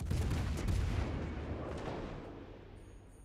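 Warship main guns firing in World of Warships: Legends, a deep booming salvo that hits loud at once and rolls off into a fading rumble over a few seconds, with no talk.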